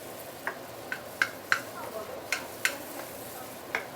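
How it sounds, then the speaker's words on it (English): Ingredients sautéing in oil with light soy sauce for mee siam pedas, a faint low sizzle beneath sharp intermittent spatula scrapes and taps against the pan, about eight strokes at an uneven rhythm. "And keep on sauteing this"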